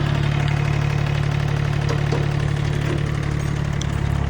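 A four-wheel-drive Yanmar F7 tractor's diesel engine runs loud and close, a steady low throbbing drone with even mechanical knock as it is given a little throttle.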